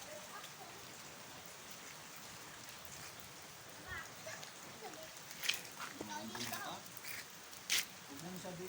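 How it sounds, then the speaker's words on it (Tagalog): Steady rain falls outdoors while children bathe and play in it, a continuous hiss of drops on surfaces under frequent excited voices and occasional louder splashes. "Naligo sila sa ulan. Naulan kasi."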